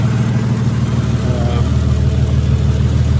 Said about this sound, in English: You might hear in the background a pretty quiet car running in the garage for a change